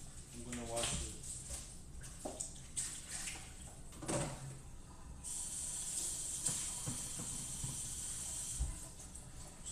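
Water runs over a Tupperware lunch container as it is washed, a steady hissing spray rising partway through and continuing under intermittent talk between two people.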